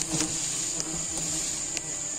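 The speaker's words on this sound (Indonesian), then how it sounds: "lebah sudah mulai berseliweran karena sarangnya tadi terganggu oleh penaikan atau pelemparan batu" Sialang honey bees from a disturbed nest in a kempas tree buzz around the listener in a steady, close drone, with individual insects whizzing past now and then.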